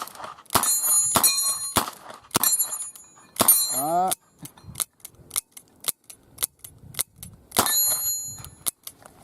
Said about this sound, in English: Let's see if we can get some rapid shooting going on. On the target, say at about 20 yards maybe. Double action.